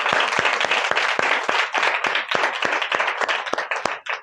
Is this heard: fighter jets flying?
no